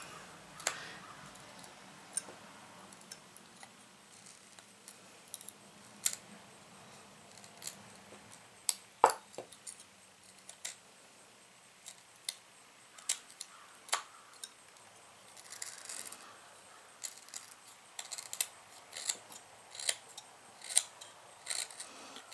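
A knife carving a crooked knife blade notch in wood works material out against a stop cut, giving quiet, sparse, irregular snicks and small scraping cuts close by in an otherwise hushed room.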